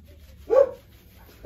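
A dog at a grooming and training school gives two sharp barks, one in the middle and another cut off at the end, fairly close, with quiet room noise between them.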